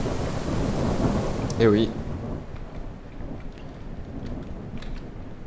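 A thunderstorm in the Airport Renovator game, with steady heavy rain and a rolling crack of thunder near the middle, while a voice speaks briefly over the downpour.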